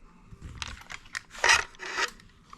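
An M1 Garand's barreled action slides out of its stock in a brief run of close, dry scraping and rubbing clicks, with a louder scrape in the middle, over roughly two seconds.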